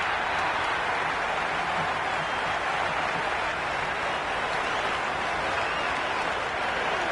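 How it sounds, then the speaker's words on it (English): A large cricket stadium crowd roars and applauds continuously, a dense distant wash of cheering that holds steady without a break. "all these spectators here today are completely enthralled and energised, judging by that noise anyway"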